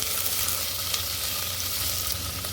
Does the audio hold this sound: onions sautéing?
yes